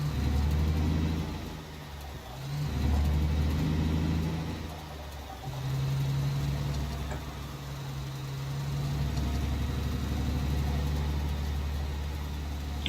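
A truck engine in Alaskan Road Truckers, driven onto gravel after a slow speed zone, hums steadily with a mid-pitched drone that rises and dips through gear and throttle changes, moderately loud with a continuous rumble underneath.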